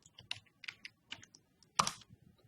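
Typing on a computer keyboard while entering a name during a Python programming demo: a loose run of light, close key clicks with one louder clattering burst near the end.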